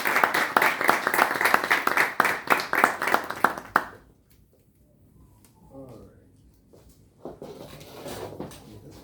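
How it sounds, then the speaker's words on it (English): Meeting attendees clap for speaker William Anderson, a lively burst of many hands for about four seconds that stops abruptly, followed by near silence and then faint speech. "So please give another round of applause to our very own William Anderson."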